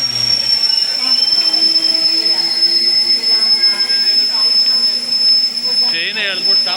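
A crowded Triveni Express passenger train brakes to a stop after its emergency chain is pulled, its wheels giving a loud, sustained metallic squeal over the rumble of the rail, while passengers talk in the background.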